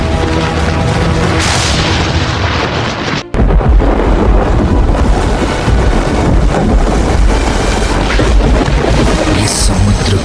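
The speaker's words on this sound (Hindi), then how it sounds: "समंदर की गर्जन भरी लहरों के बीच एक साहसी जहाज अपनी तकदीर से लड़ रहा है।" Wind and heavy waves roar continuously around a ship on a stormy sea, loud and dense, with one abrupt cut followed by a heavy boom.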